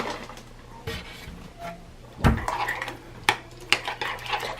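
A spoon stirs seasoned alfredo sauce in a bowl with a few soft clinks and scrapes, one heavier knock partway through, against a faint steady hum.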